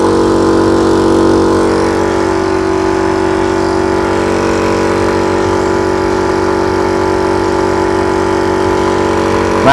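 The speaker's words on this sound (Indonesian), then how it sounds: "Sekarang kita akan nyalakan untuk kompresornya yang ada di sini." A loud air compressor runs steadily up close while filling a Ruger PCP air rifle, its constant motor hum and vibration unbroken throughout.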